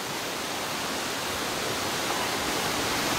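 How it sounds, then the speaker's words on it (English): The Harbiye waterfalls near Antakya, Turkey, give a steady, broad, unbroken rush of falling water that holds at an even loudness throughout with no voices. "the Harbier waterfalls in Antakya."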